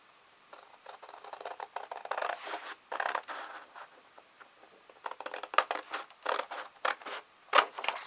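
Scissors cut paper for a handmade card up close, a series of crisp snipping strokes in uneven bursts, with faint paper rustle between cuts and no talking.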